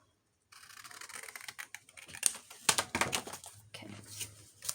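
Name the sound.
cutting paper along a marked line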